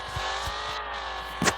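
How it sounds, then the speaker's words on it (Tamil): A Mustang GT accelerates in a speed test in a car simulator game, a steady engine drone with rising tone and a brief tire squeal or shift near the end, no talk. "இப்போ வந்து பார்த்தீங்கன்னா மஸ்டாங் ஜிக்கு ஸ்பீட் டெஸ்ட் ஆரம்பிச்சிடும்"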